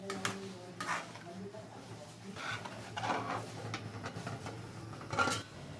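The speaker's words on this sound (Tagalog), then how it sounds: "Siyempre haluin muna natin para ma-dissolve yung mga nilagay natin ingredients." A spoon stirs pancit canton sauce with pepper and brown sugar in a pan, giving soft scattered metallic scrapes and clinks, faint and close.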